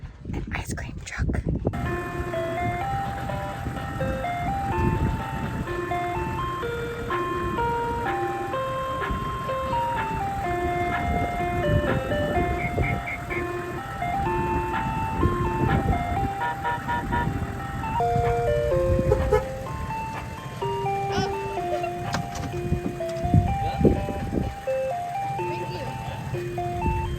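An ice cream truck plays its looping electronic melody at a beach-front RV spot, the tune running steadily for the whole stretch over background talk and ambient noise.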